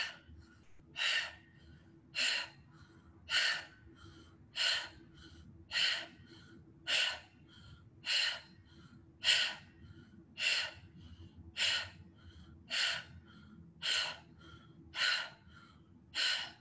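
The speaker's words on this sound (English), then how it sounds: "dog breath. We're panting through the mouth, soft tongue." A person doing yoga 'dog breath' pants through the mouth in short, strong bursts, about fourteen of them at a steady rhythm roughly a second apart, close and alone with no talking.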